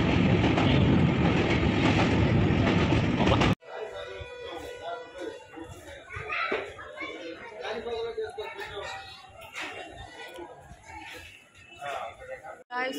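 A loud rushing roar cuts off abruptly, giving way to the rumble and clatter of a train on rails, with people chattering nearby throughout.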